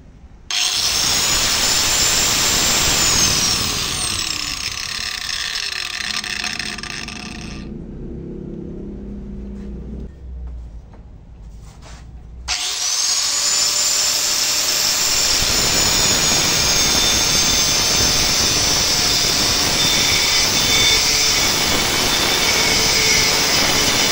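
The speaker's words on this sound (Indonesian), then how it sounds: "Jadi untuk tenaga gerinda Stanley ini nggak main-main." A 13-year-old Stanley angle grinder with a cutting disc runs with a loud, steady high whine, dips to a lower rumble midway, then spins back up to full speed.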